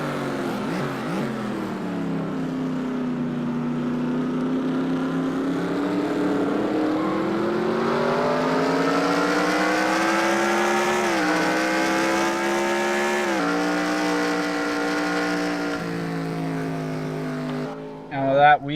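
Onboard sound of a race car driving through turn 11 at Infineon: a loud, sustained engine note close by, rising and falling in pitch through the corner, with a brief burst of noise at the end.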